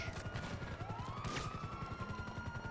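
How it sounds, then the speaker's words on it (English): Rapid bursts of explosions and gunfire from a grenade launcher in GTA Online pound repeatedly under a wailing siren, dense and continuous with crashing impacts. "Yeah, bitch, it's a grenade launcher."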